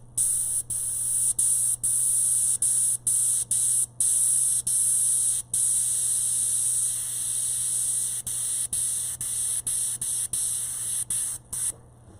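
An airbrush spraying red paint over a figure's hair, a steady close hiss broken by brief stops as the trigger is released, over a low hum, with no talking.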